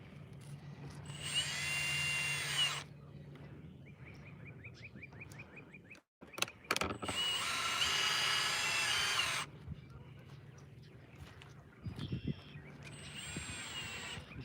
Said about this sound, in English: take a screw and I'm gonna fasten it in place